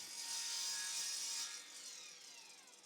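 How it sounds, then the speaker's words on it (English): A miter saw cuts through a wooden fence board, a quiet, close whirring cut that fades as the blade winds down, with nobody speaking. "And I can now cut it to size with my miter saw."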